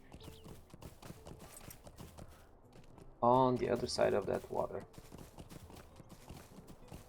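A horse's hooves clip-clop steadily in the game Lord of the Rings Online, a quick even rhythm of close footfalls heard throughout, with someone talking over part of it.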